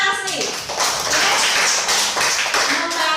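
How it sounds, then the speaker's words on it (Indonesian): Classroom of students clapping for a pupil named Asni, a loud dense burst of quick claps from many hands, with a teacher's voice at the start and children's voices mixed in. "Tepuk tangan untuk Asni"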